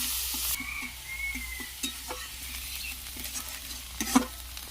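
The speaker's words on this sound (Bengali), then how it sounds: "পেঁয়াজ আর রসুন হালকা এটাকে পুড়ে নেওয়া হবে" Onion and garlic frying in a pan, a soft steady sizzle with regular scraping stir strokes and a few clinks, close but fairly quiet, with no talk.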